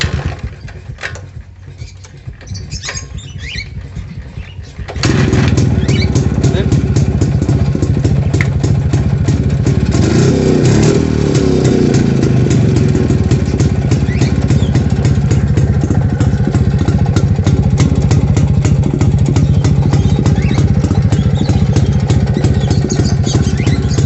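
Vintage Yezdi Classic D250 motorcycle with points ignition, kick-started after a quieter stretch, then settling into a loud, close, steady clattering idle that runs on without speech.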